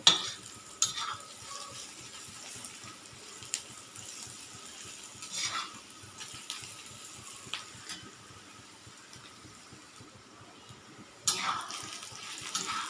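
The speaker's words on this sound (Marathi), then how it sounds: "कांदा आपला परतत आलेला आहे" Onion fries in a pan for a village-style wild vegetable dish, a steady soft sizzle broken by occasional stirring scrapes and utensil clinks against the pan, close and with no talking.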